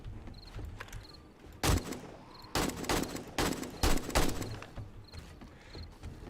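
Automated turrets fire on enemies in the survival video game 7 Days to Die: loud bursts of rapid gunfire come in several clusters after a quieter opening, with faint beeping tones in the background.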